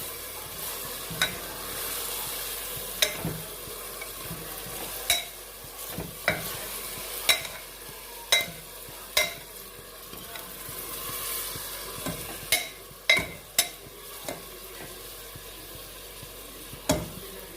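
Goat meat frying in a pan while being stirred, a steady soft sizzle punctuated by regular sharp scrapes and clinks of the spoon against the pan, close and clear, with no talking.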